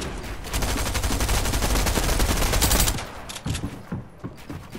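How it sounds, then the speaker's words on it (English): A grenade launcher fires in a video game: a dense, loud volley of rapid shots for about three seconds, then scattered single blasts trailing off. "Nah, grenade launcher."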